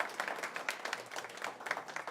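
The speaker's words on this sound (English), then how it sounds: "Give yourselves a round of applause." Applause from the audience at an evening religious lecture about Chanukah, a dense, steady patter of many hands clapping at moderate distance, continuous for about two seconds with no speech over it.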